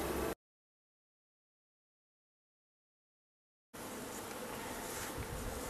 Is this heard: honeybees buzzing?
yes